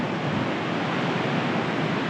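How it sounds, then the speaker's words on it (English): Strong wind roars into the microphone as a dense, constant rush of noise, loud and unbroken for the whole stretch, high above a drop in North Cascades National Park. "Oh my gosh, it's so windy."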